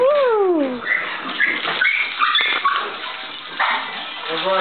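Three pugs yelp, whine and whimper excitedly just after release from their crate, close by, with a person's voice talking and cooing over the commotion.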